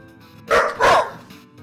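Two loud, close dog barks in quick succession from the dog in the video game Undertale, standing out against a quiet background.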